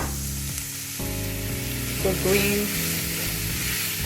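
Chicken stir fry sizzles steadily in a hot pan, a constant loud frying hiss throughout with a brief stirring clatter, while a person talks over it.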